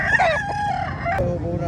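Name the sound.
chicken crowing at a public market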